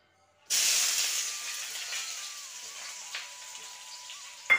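Onion and green chilli hit hot oil in a pan for fried rice, bursting into a loud, steady hiss that gradually softens into a continuous sizzle with a few small pops.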